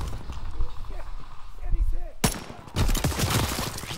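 Gunfire in the Call of Duty: World War II video game in hardcore mode: a dense burst of loud shots in the second half, with a speaking voice and faint game sounds before it.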